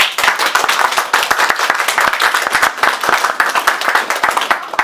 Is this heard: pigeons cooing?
no